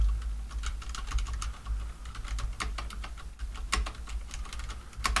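Rapid typing on a computer keyboard, keys clattering in quick irregular bursts close by with a steady low hum beneath, no talking.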